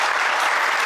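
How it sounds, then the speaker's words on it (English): Dense, steady crowd applause from an audience at a sanitation summit, a short continuous wash of many hands clapping at even loudness. "let's welcome her with your round of applause"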